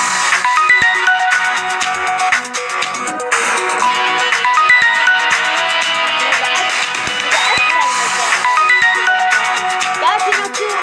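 A Samsung Galaxy Note ringtone plays loud and close, a bright, bouncy melody of plucked tones that repeats its phrases steadily with no speech over it.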